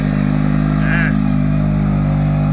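An off-road vehicle with big gear reduction climbs a trail, its engine holding a steady, close, low droning hum with little change in pitch.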